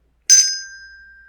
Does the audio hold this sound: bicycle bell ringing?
yes